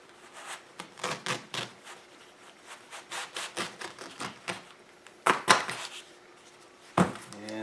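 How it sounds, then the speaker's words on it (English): Staple gun driving staples through carpet into a 14 ft jon boat, a series of quiet, sharp snapping clicks at an uneven pace with rubbing between them, followed by two louder, distinct shots. "Pull it nice and tight. Staple. Staple."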